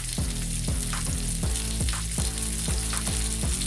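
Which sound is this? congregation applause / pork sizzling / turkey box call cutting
pork sizzling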